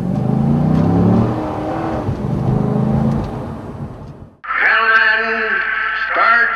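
A Corvette's deep engine rumbles and swells through a rev, then a higher-pitched whining engine tone takes over abruptly, loud and close.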